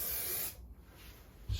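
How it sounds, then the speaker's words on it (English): A short burst of 3M high strength contact adhesive spray hisses for about half a second, then fades to quiet with a soft bump at the end. "3M high strength contact adhesive"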